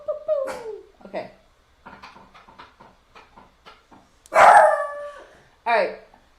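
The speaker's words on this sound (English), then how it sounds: "What's you barking at?" A dog gives a series of short barks and whines, then two loud, drawn-out howling yelps close by, with brief quiet gaps between the calls.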